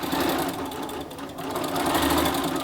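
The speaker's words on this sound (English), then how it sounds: "let's head to the sewing machine" A sewing machine stitches the corners of a fabric grocery bag, running steadily throughout, its fast mechanical stitching chatter continuous and close, with no voices.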